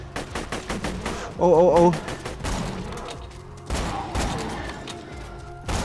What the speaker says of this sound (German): Immer schön ins Gesicht schießen.